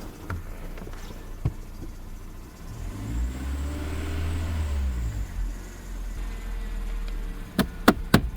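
Cheap rallycross car engine idling nearby with a slight tick, a low steady rumble that swells in a short rev and settles, with sharp knocks and clicks at the end.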